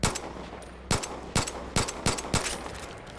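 Gunfire from the video game Far Cry 5, with six sharp, loud shots at uneven intervals, each followed by a short decaying tail, and no talk.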